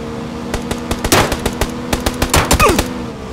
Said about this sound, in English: You're getting shot.